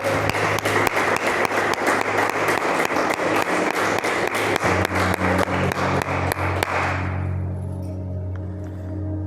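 A church congregation claps in steady rhythmic unison for several seconds, loud and close, over a sustained low musical tone, then the claps stop and only the lingering tone remains.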